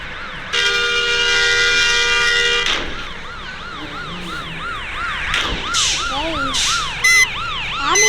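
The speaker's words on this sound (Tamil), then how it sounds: "ஆம்புலன்ஸ் வந்து கைஸ்." Ambulance siren from the Indonesia bus simulator game: a loud steady electronic tone, then a rapidly wailing yelp sweeping up and down repeatedly, close and continuous with no talk.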